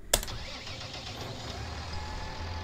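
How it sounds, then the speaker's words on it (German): A New Holland T7 2011 series tractor engine starts in Farming Simulator 19, with one sharp crank burst that settles at once into a steady, low idling rumble, close and alone with no talk. "Starten wir einfach mal den Motor."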